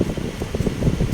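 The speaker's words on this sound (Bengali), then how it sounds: "এখানে এত বাতাস বাতাসের সাউন্ড হয়তো বুঝতে পারছো" Steady wind blowing across the microphone on a small bridge in a village area of Dhaka, a low rumbling buffet with gusty swells throughout, no voices.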